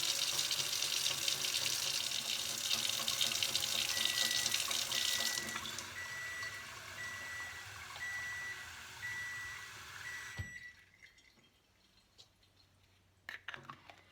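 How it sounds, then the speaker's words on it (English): A cold-water faucet runs at full flow into a sink for about ten seconds, a loud steady rush with a faint beeping tone over it, then cuts off to near silence with a few small clunks at the end. "And then we're going to turn on the timer and turn on the faucet"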